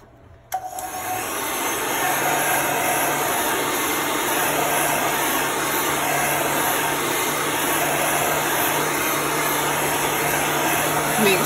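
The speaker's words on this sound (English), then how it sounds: "so now we're going to dry this really quick with the heat gun" A heat gun blows with a steady, loud whirring hiss as it dries ink on a towel, switching on sharply near the start and running continuously.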